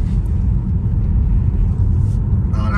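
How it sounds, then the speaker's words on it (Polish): Tire roll noise fills the cabin of a moving Tesla Model 3 as a steady, loud, low rumble with no gaps or changes in pitch. "wyraźnie słyszę toczące się opony, także wyraźnie ten dźwięk z toczących się opon przedostaje się do samochodu"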